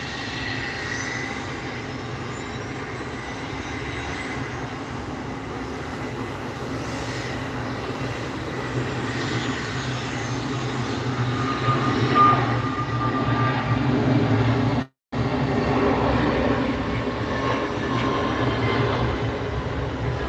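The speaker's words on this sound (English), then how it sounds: "Here goes the A321." Airbus A321 airliner passing at an airport, a broad steady roar that swells toward the middle and late part and holds loud throughout, with no talk over it.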